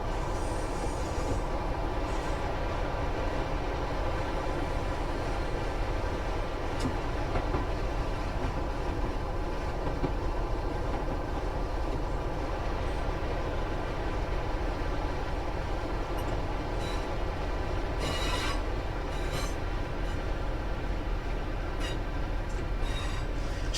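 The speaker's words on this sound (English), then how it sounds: "Just the engine sounds just don't sound right to me." A British Rail class 158 diesel train in Train Sim World 3 on the Midland Main Line runs with a steady engine drone and rail rumble, continuous and even throughout with faint occasional clicks.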